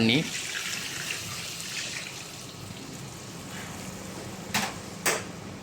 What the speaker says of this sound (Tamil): இப்போ இதில் நம்ம 2 லிட்டர் தண்ணியை சேர்த்துக்கலாம்.